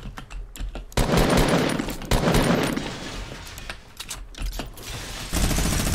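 Bursts of automatic gunfire spraying in a Fortnite Battle Royale match, several loud rapid volleys separated by short pauses, the firing close and continuous across most of the stretch.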